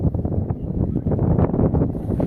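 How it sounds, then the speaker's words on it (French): Steady, rumbling wind on a boat buffets the microphone, a continuous gusty roar with low flapping and rushing noise throughout. "Le vent arrive d'en face."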